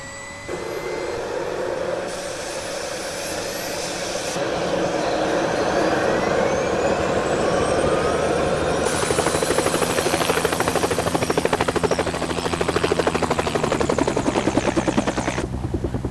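Helicopter engine spooling up in Helicopter Simulator 2014, a rising turbine whine that builds steadily into a loud, continuous rotor and engine roar with rhythmic blade chop, heard alone throughout.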